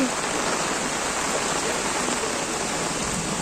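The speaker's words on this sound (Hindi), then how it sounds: "देखो कितनी भयंकर बारिश पड़ रही है यार" Heavy rain pouring steadily, a dense continuous hiss of water falling on surfaces, loud and unbroken throughout.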